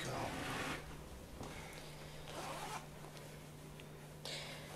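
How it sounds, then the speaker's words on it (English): A stuck zipper on a dress rasps in several short pulls, close by, with brief pauses between strokes and a steady low hum underneath. "So what we have is a little stuck zipper."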